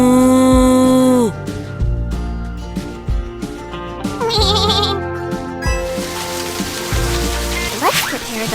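A cartoonish cow moos in a children's farming video game, a drawn-out lowing call set among bright game music and sound effects, loud and close.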